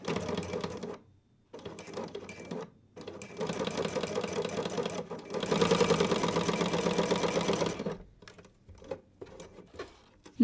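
Sewing machine fitted with a ruffler foot stitching and gathering fabric, a steady fast mechanical whir and patter in several runs separated by brief pauses, the longest running for several seconds; no talking.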